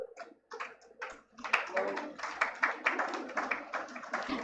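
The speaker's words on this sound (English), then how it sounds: "Please clap for them, everyone." Audience applause for gold medal recipients at a law college conference award ceremony, beginning as scattered claps and swelling into sustained, dense clapping from a large crowd in a hall.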